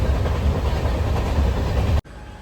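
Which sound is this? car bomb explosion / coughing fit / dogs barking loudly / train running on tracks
train running on tracks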